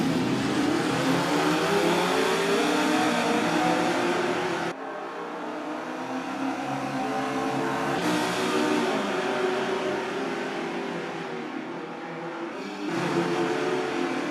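Mini race cars at the start of a night race event, their engines revving and accelerating hard in a loud, sustained roar, rising and dropping through gear changes with several cars at once.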